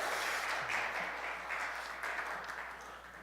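A church congregation at a Friday worship service claps together in thanks, a faint, steady wash of applause sustained throughout, slowly tapering toward the end.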